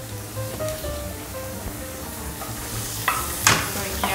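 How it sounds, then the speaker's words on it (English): Onions and garlic sizzle steadily while being stirred in a pan, a constant frying hiss with a few scraping spoon strokes near the end. "after you soak your onions out, add your garlic."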